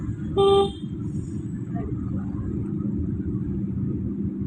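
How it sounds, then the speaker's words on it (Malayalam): A learner driver's car horn gives one short, gentle toot up close, over the steady low rumble of the moving car on a driving-practice road, with a voice speaking afterward. "പയ്യെ ഓൺ അടിച്ചിട്ട്"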